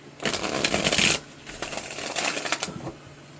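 Tarot cards are shuffled close up in a dense riffling burst, a short pause, then a second looser shuffle with a few soft taps, and no talk.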